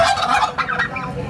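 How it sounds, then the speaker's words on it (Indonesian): A large male turkey gobbles up close, a short, loud burst of rapid warbling calls. "Itulah suara bunyinya. Ini ayam kalkun."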